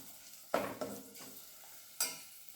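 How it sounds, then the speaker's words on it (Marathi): Masala roasting in hot oil in a pan for a Malvani prawn curry, with quiet sizzling and a few scraping stirs from a spoon, three or four distinct strokes over a low frying hiss, no talk. "म्हणून हा मसाला भाजून घ्यायचा आपल्याला."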